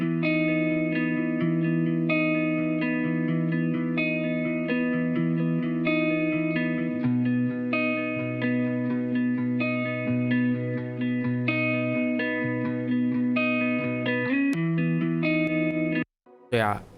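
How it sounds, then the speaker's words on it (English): Emotional progressive house breakdown carried by a sustained, effect-soaked electric guitar with chorus, distortion and reverb, steady and full for most of the passage before cutting off near the end. "Let's come to the second breakdown part, which is having a unique kind of guitar"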